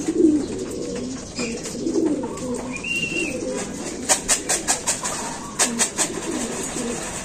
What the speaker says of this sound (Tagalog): Ayun pa mga kalapatid.